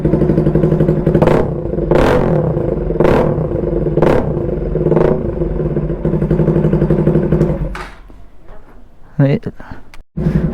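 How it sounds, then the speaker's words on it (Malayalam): A Bajaj Pulsar NS200 motorcycle with a full-system aftermarket exhaust revs up close by in a series of about six sharp, loud throttle blips over a rumbling idle, followed by a few quieter pops and clunks. "ഇതാണ് ഇതിൻ്റെ കറക്റ്റ് എക്സോസിനോട്ട്"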